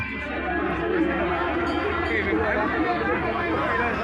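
A crowd at the Kurdu village fair keeps up a dense, continuous babble of many overlapping voices close by.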